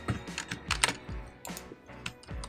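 Brisk computer keyboard typing of C# while-loop code, bursts of sharp close keystrokes in uneven clusters with brief pauses between, loud and clear with no talking.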